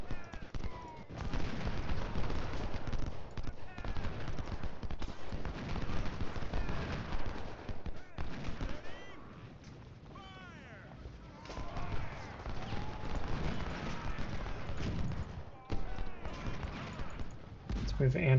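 Gunfire in the Civil War strategy game Ultimate General: Civil War, with scattered musket volleys and distant rumbling battle noise under steady talking throughout.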